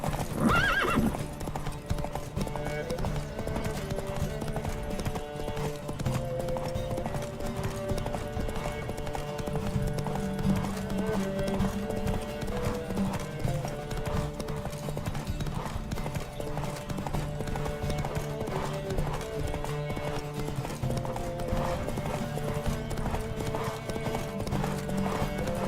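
Rapid hoofbeats pound in a steady galloping rhythm throughout, with music and occasional neighing layered over a horse racing in The Witcher 3 video game.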